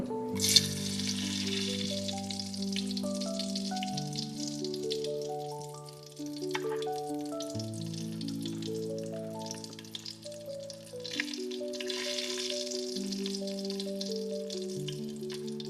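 Whole spices sizzle and crackle as they fry in hot ghee, a hissing bed beneath a gentle melodic tune playing throughout.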